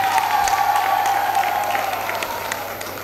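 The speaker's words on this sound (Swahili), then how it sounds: "Tuwapigie makofi walimu wetu." An audience at the Maria de Matias school applauds its teachers, sustained crowd clapping with a dense, even texture that fades slightly toward the end.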